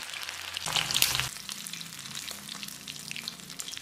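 Chicken pieces frying in hot oil for a crispy Payyoli chicken fry, a steady loud sizzle and crackle with a brief brighter burst of spattering early on, no voices.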